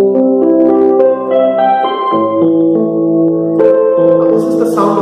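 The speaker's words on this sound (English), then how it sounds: "now this is the sound of an electronic piano." Electronic piano notes and chords play cleanly in a slow sequence, bright and close, with sustained tones shifting every second or so.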